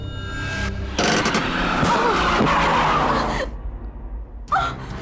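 A car brakes hard and skids to a stop, a loud tire screech sweeping over engine noise for a couple of seconds, followed by quieter rumble and a brief thump.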